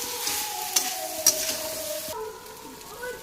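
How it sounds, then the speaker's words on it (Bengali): Fried shrimp, young jackfruit and potato get stirred into frying spices in a pan, a steady soft sizzle broken by a couple of sharp clinks of the spoon against the pan, fairly quiet and close. "এবার আমি যেগুলো ভেজে রেখেছিলাম চিংড়ি মাছ, এঁচোড় আর আলুটা দিয়ে দেব। দিয়ে আমি মশলার সাথে ভালো করে মিশিয়ে নেব।"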